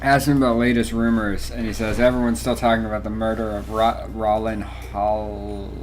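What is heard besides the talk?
No everyday noise stands out behind the speech.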